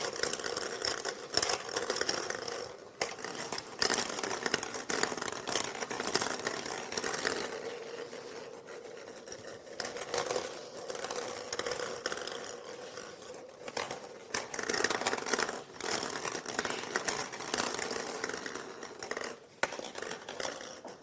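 Plastic draw balls are shuffled in a seeding pot at a UEFA Europa League draw, giving a continuous faint rattling and clacking that swells and eases over about twenty seconds.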